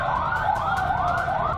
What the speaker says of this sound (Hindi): Thank you for giving way to the ambulance.